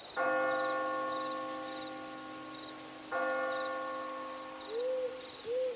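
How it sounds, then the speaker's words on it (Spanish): Two deep strikes of a church bell, each ringing out and slowly fading, with an owl hooting softly in the background. "El sonido de la campana era más fuerte a cada paso"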